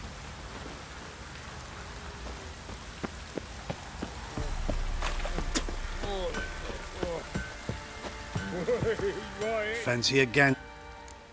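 Steady heavy rain hisses throughout in The Witcher 3 video game, with brief voices and a few sharp effects over it toward the end.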